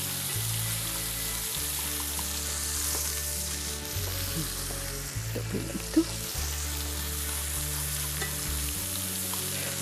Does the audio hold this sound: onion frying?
yes